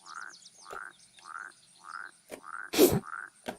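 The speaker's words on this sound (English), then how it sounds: "we hear one frog croaking" Frog croaking in a Unity-built video game, a steady series of evenly spaced ribbiting calls repeating about every half second, with a louder burst near the end, close and clear with no talking.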